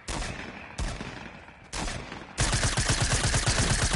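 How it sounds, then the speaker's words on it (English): Video game combat with RPG blasts and gunfire: three heavy explosive shots a second apart, then a sustained rapid burst of automatic fire, loud and close. "Who's shooting RPGs?"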